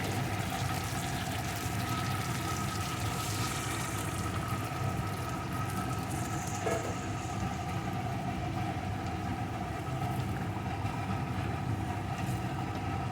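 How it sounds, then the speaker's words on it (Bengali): Warm water pours from a rinsed mixing jar into a pot of chicken curry, a steady continuous wash of liquid sound close by with no talking. "ওই মিক্সিং জারটা ধুয়ে একটু উষ্ণ গরম জল দিয়ে দেবো"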